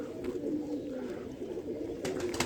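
A pigeon coos softly in a loft, a low rolling murmur over faint background noise, with a brief rustle at the end.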